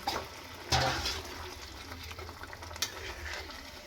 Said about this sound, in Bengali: হাফ কাপের মতন আমি জল দিলাম